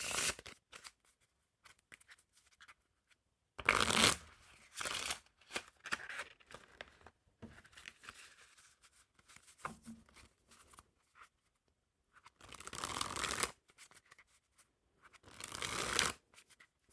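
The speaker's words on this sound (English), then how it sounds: "when I'm shuffling these up" Bursts of riffle shuffling a deck of Silver Luxury Noc playing cards, fluttering rapidly in short runs of about a second, with quiet gaps and soft handling sounds between.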